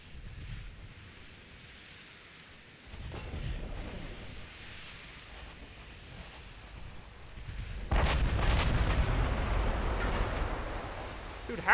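Distant booming naval gunfire from warships in Ultimate Admiral Dreadnoughts rolls over a wind-like sea ambience, with heavier blasts surging near the end and no talking.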